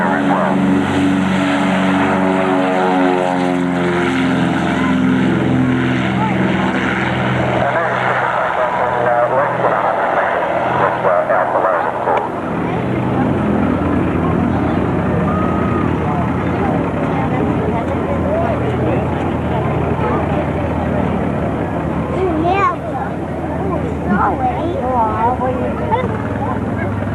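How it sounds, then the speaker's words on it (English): A Britten-Norman BN-2 Islander propeller aircraft manoeuvring at an air show, its loud, steady engine and propeller drone rising and shifting in pitch as it passes, with an announcer speaking over it. "if you keep your eye on the Islander there, you can see how manoeuvrable this aircraft is."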